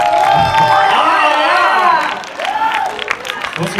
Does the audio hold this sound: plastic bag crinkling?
no